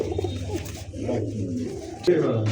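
A red dauka male pigeon coos in low, throaty rolls close by, while people talk over it at a market stall.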